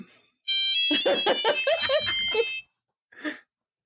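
Podcast feedback phone ringing: a bright electronic ringtone of rapid pulsing tones for about two seconds, then a short second burst after a pause, fairly quiet and alone.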